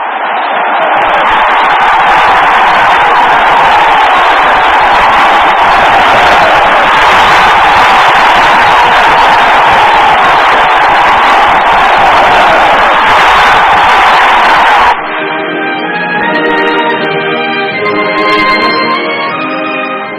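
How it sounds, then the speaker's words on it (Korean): A large crowd cheers and applauds at a 1964-era Korean welcome celebration for returning troops, a loud, dense, sustained roar of clapping that cuts off abruptly and gives way to band music. "민족의 지도자 박정희 대통령께 보내는 결의의 환호"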